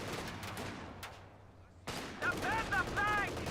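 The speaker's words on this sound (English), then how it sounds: "Kubelwagen getting hit by the Rifleman." Rifle fire from Riflemen striking a Kubelwagen in Company of Heroes 2: scattered gunshots and impacts, a sharp burst near the two-second mark, followed by busier battle noise with whistling tones and louder reports.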